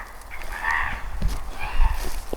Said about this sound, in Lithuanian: Vis dar girdisi kažkokių, nežinau, gyvūnų, varnėnų, kranklių balsai.